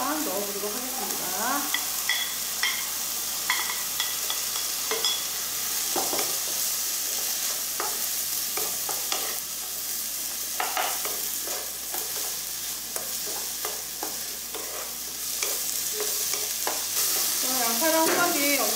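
Meat frying in a wok with onion and salt for Chinese yuni jajangmyeon, a steady close sizzle under repeated scraping stirs and utensil clinks throughout, no talking.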